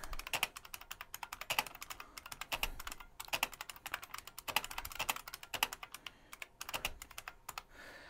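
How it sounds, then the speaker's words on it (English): Steady, brisk keystrokes on an IBM Wheelwriter 50 Series II electronic typewriter, each letter striking with a sharp mechanical clack in quick irregular bursts, close and alone with no talking. "if I type a document"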